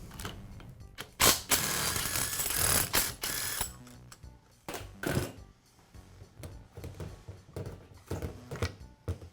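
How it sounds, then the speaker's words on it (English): A ratchet wrench loosens the four bolts securing the barrel to the gearbox of a Makita demolition hammer, with rapid, close pawl clicking in bursts and metallic handling in between. "I'll begin by removing the barrel from the gearbox. The barrel is secured with 4 bolts."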